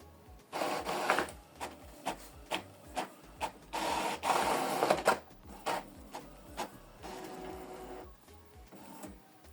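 An Epson ET-4950 inkjet printer runs a double-sided color print job, with rhythmic mechanical clicks and feed thumps alongside bursts of whirring carriage motion, close and fairly loud, with no voices.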